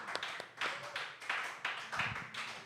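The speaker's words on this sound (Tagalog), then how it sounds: "Yung malakas na palakpak para kay Lord." Congregation at a church worship service clapping loudly, several bursts of applause swelling and fading in a steady rhythm.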